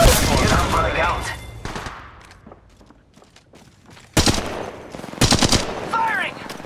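Loud bursts of automatic gunfire in Apex Legends Mobile, a fast rattle up front, a quieter gap, then fresh close volleys returning toward the end.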